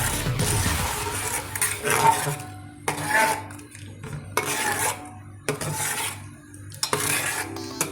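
Sabudana and potato chakli dough mixture stirred in a bowl with a spoon, giving repeated bursts of scraping and clinking separated by short pauses, close and fairly loud.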